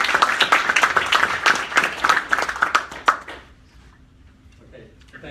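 An audience gives a short burst of applause welcoming panelists at a presidential transition discussion, dense clapping that fades out after about three seconds into quiet room tone.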